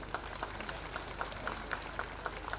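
Applause from an audience at an outdoor park inauguration ceremony, steady faint clapping with no speech over it.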